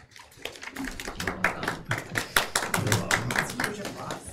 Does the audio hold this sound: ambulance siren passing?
no